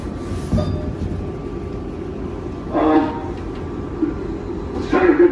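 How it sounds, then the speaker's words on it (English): A New York 7 local subway train in Queens runs with a steady loud rumble of wheels on track, brief squeals and metallic screeches rising over it a few times, heard from inside the moving car. "Main Street bound 7 local train."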